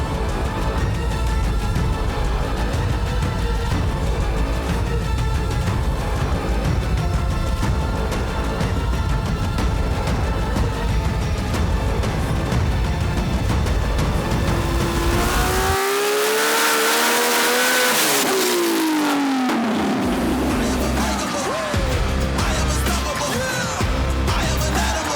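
A race car engine revs hard and loud throughout, its pitch sweeping up and down near the end as the turbo spools, with no talk over it.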